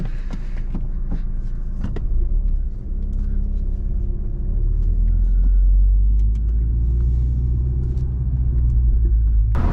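Steady low rumble of a 2016 MINI John Cooper Works with a six-speed manual gearbox being driven, engine drone and road noise continuous and loud from inside the cabin, with a slight swell in revs midway.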